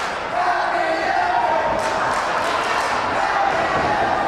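A wrestling crowd in Wayne, New Jersey, at a women's match, making a loud continuous roar of cheering and shouting with scattered claps and thumps, heard from within the arena.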